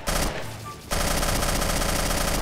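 Rapid bursts of video-game gunfire from a round of Garry's Mod on a Bendy-themed map, loud and dense, dropping out briefly before resuming as continuous rattling shots.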